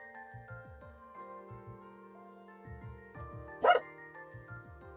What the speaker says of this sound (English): Yep, my dog's barking.